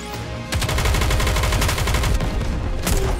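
Dense, rapid automatic gunfire in Goddess of Victory NIKKE, loud and sustained, with a brief lighter patter before the full barrage kicks in and runs continuously to the end.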